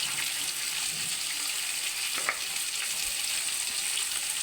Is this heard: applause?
no